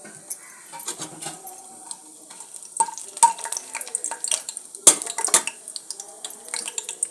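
Whole cardamom pods, a cinnamon stick and cloves drop into hot oil, giving a light crackling sizzle broken by sharp clinks and scrapes of a spoon against the pan.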